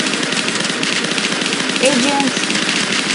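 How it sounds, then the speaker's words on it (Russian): Rapid gunfire in the video game Madness, a dense rattling stream of shots over a constant buzzing game soundtrack, with a voice speaking briefly. "Я пока стреляю."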